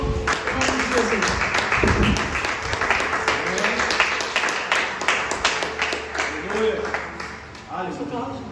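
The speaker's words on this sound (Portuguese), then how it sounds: "Aplauda ao Senhor, em nome de Jesus." A church congregation claps and applauds steadily, dense and lively, with voices calling out over the clapping.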